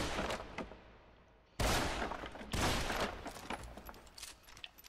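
Gunfire in the first-person video game Deadfall Adventures comes as a quick patter of shots followed by two loud, sharp blasts that fade into a ringing tail.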